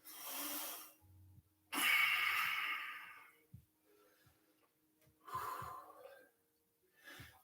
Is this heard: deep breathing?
yes